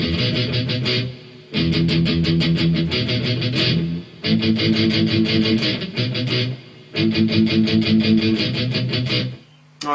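Palm-muted electric guitar downstrokes in the bridge of a song, played in tight chugging bursts separated by short pauses, close and loud with no voice over them.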